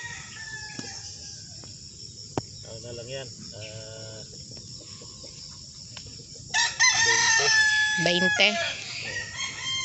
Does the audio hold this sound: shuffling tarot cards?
no